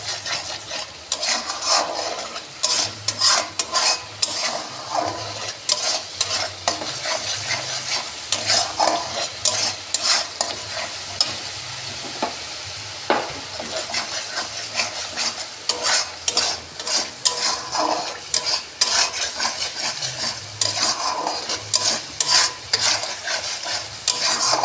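Onion paste and ground spices fry in a pan while being stirred, a constant low sizzle punctuated by repeated scraping strokes of a spoon against the pan, close and steady, with no talking.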